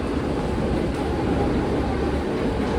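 A suburban train at a crowded station rumbles steadily with a broad, low mechanical drone, constant and fairly close, with no clear talking over it.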